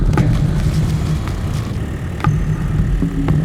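A car engine hums low and steady nearby, a continuous mid-pitched motor drone that swells slightly in places, with no talking over it.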